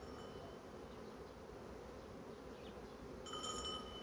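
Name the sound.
honey bee buzzing near hive feeder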